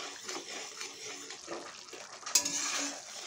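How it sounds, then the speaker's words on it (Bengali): Mustard fish sauce with sugar being sautéed in a pan for a Bengali parse fish recipe, a soft steady sizzle with faint scraping and stirring, one sharper clink near the end, no talking. "তো এইভাবে কিছুক্ষণ কষিয়ে নিচ্ছি।"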